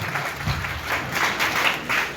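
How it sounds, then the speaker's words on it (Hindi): A brief burst of crowd applause welcoming a speaker at a political gathering in a hotel in Parsa panchayat, dense and fairly close, with no voices over it. "आप लोग गर्मजोशी के साथ तालियों के साथ उनका आप स्वागत करेंगे"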